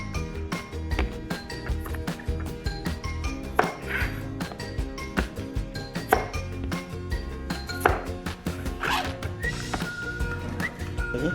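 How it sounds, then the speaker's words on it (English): A knife chops through the ends of a zucchini on a cutting board, giving close, crisp taps in an irregular run over soft background music. "Cut the ends off of the zucchini."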